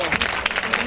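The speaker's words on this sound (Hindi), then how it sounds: "कारी अब्दुल गफार साहब, मैं आप सब लोगों से रिक्वेस्ट करूंगी कि भरपूर तालियों में खड़े होकर उनका इस्तकबाल कीजिए" Audience applause at a school award ceremony welcoming the principal of Idara Fast School System, a brief burst of clapping under a speaking voice.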